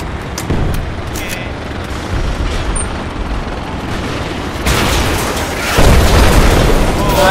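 A tank is hit and blows up in the military game Project Reality BF2 on the Kashan Desert map: heavy booming blasts land in a roaring battle din, with a big burst near the end.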